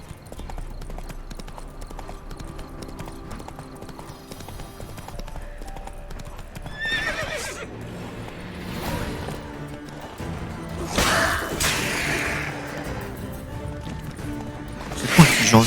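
Steady clip-clop of horse hooves plodding along in The Witcher 3: Wild Hunt, with clattering and a brief crash partway through, plus faint background music.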